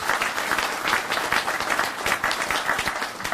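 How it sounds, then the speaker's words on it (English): Steady outdoor crowd applause greets classic car owners from Missouri and Arkansas at a grand opening event, many hands clapping continuously at moderate loudness throughout. "So we want to give them a round of applause."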